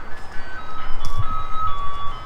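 An ice cream truck plays its tinkling jingle melody, moderately loud and steady, with a brief clunk partway through and no voices.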